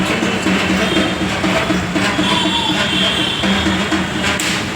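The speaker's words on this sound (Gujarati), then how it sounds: "કારણ કે મેટ્રો આવી ગઈ છે." A metro train rumbles steadily with a loud, continuous mechanical roar and a faint high whine, close and constant throughout.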